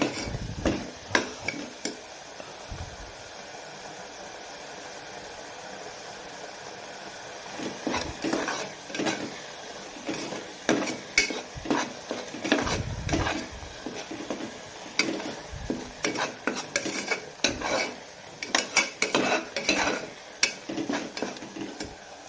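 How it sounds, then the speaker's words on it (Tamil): Ingredients for a chicken gravy sauté in oil in a pan, with repeated scraping and clinking strokes of a spatula against metal over a light sizzle, in irregular bursts. "இது நல்லா ப்ரௌன் ஷேடில் வதங்கணும்"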